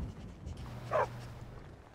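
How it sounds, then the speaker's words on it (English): A dog in the fantasy role-playing game Enderal: Forgotten Stories gives a single short bark near a farm village, brief and mid-distance over a low ambient hum. "That's a real dog."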